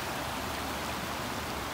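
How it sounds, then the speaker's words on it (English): A small creek in South Tulsa flows with a continuous broadband hiss of water. The sound is steady and fairly close, with no voices. "just listening to the water sound is very soothing"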